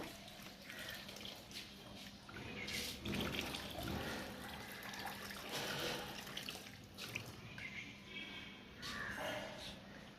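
Water being poured out of a jug makes a continuous, faint splashing and trickling flow with a few stronger gushes, while people talk over it.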